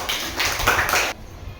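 A classroom of pupils claps for a student in one short, loud burst that stops abruptly after about a second.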